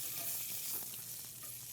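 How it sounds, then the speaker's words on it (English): A thick filet mignon sears in a hot pan as it is rolled to brown all sides, giving a steady, fairly quiet hiss of sizzling with no voices. "Give it a nice sear all the way around it."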